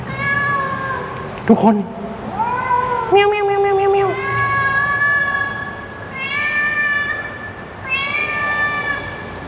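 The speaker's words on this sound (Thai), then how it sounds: "ผมเจอแมวเป็นคอกว่ะทุกคน แมวแมวแมวแมวแมว แล้วก็มีลูกแมวอยู่2ตัวว่ะทุกคน" Cats and kittens in an abandoned 1990s glass factory meow repeatedly and close by, drawn-out cries rising and falling one after another while someone talks excitedly.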